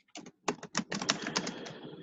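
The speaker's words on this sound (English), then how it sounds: "Who's typing?" Rapid typing on a computer keyboard close by, a burst of crisp clicky keystrokes after a few separate taps, continuing fairly steadily without talk.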